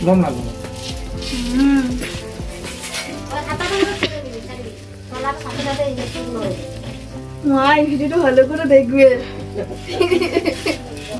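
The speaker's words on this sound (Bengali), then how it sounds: "আগে কোনোদিনই আমি ভাজি নাই পরোটা, তো আজকে প্রথমেই ভাজছি।" A paratha stuffed with nuts sizzles and crackles in a hot pan, the frying continuing steadily beneath near, almost constant talking throughout.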